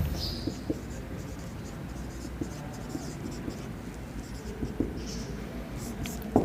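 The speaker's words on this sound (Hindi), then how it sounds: "मैं यहाँ लिख देता हूँ" Marker or pen writing on a board during a classroom biology lecture, soft intermittent scratchy strokes at close range over faint room noise, with no speech.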